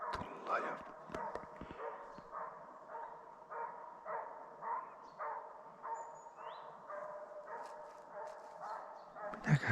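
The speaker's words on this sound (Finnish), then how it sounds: "Haukkuu niin ihmeellisellä äänellä" Finnish Hound barking repeatedly during a hare hunt in the wilderness, a steady run of baying barks at a fairly even rhythm from a moderate distance, with people talking intermittently.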